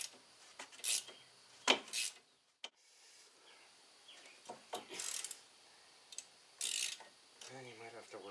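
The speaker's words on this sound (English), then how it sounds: "Inch drive ratchet. You should be able to get this off." A ratchet works loose the upper strut mount bolt on a 2008 Chevrolet Malibu, giving short bursts of clicking with pauses and clanks between them, close and quiet.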